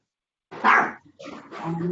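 A dog barks and yips twice in quick succession, close and fairly loud, indoors during a work meeting, with a brief gap between the sharp calls.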